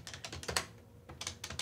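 Fingers tap out a quick, uneven burst of keystrokes on a Tandy Color Computer keyboard with tiny keycaps, close and crisp clicks separated by a brief pause.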